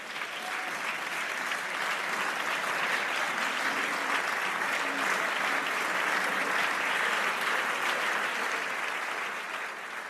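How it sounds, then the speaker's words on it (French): Sustained applause fills the French National Assembly chamber after a vote adopting a bill, steady and dense throughout, heard at moderate distance. "Et vous entendez donc ces applaudissements."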